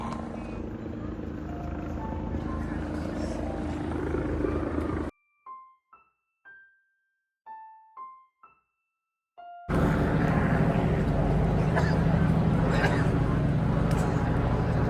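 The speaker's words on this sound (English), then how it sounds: "And the helicopters are out as well." Helicopters' steady rotor roar fills the air over London near Buckingham Palace during a protest, broken midway by a few seconds of short electronic tones before the loud droning returns.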